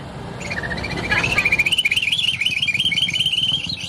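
A voice imitates birds chirping, a rapid stream of high, warbling whistles that trill on steadily, loud and close.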